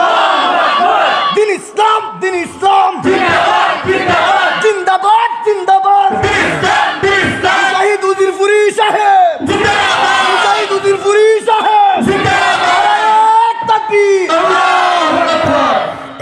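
Large crowd at a Bengali Islamic sermon gathering chants Allahu Akbar in unison, loud repeated bursts of massed voices with short breaks between shouts.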